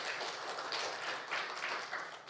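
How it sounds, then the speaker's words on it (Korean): A church congregation claps for its worship team during a Sunday service, a soft, continuous patter of many hands heard at a distance with no voices over it. "한 번 더 우리 한번 찬양팀을 위해서 박수와 격려로 나아가겠습니다"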